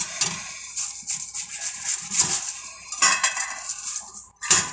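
Knife chopping vegetables on a board in a home kitchen during meal prep, with a few clustered clinking cuts and scrapes close by, no talking.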